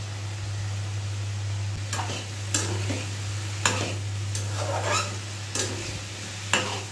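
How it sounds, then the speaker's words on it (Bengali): Sweet pumpkin frying on a home stove while lentils cook on another burner, with a low steady sizzle and hum under repeated scraping stirs of a spatula against the pan, close and fairly loud. "এক চুলাতে ডাল আর এক চুলাতে মিষ্টি কুমড়া ভাজি করে নিচ্ছি।"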